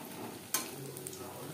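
Potato chops (alur chop) fry in oil in a wok with a steady soft sizzle, broken by one sharp clatter near the start and a small tick later.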